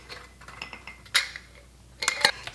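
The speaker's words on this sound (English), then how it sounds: "And I just first loosely screw them on here." Glass jars holding baked bread get their lids loosely screwed on, giving a few soft metallic clinks and scrapes in two short bursts, close and fairly quiet, with no talk.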